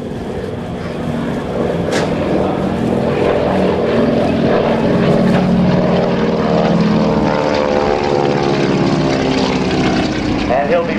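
A propeller airplane makes a final low pass at a naval air station airshow, its engine drone loud and close, rising and then falling away as it passes, with talk over the top.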